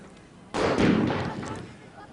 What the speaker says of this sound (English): having a time with the firecrackers on the terraces